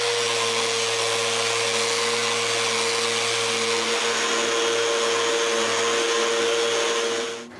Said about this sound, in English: Now that everything is on the same plane, I can go on by sanding the back of the doors.